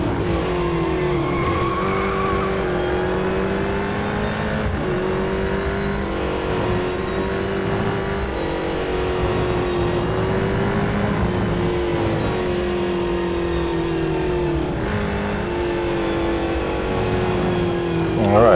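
A Ford Falcon FG X (2018) supercar races around the Nürburgring in the Real Racing 3 video game, its engine note droning steadily and shifting in pitch through gears, with brief tire squeal under braking, loud and continuous throughout.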